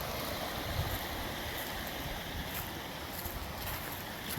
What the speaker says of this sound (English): Got this nice little creek coming into the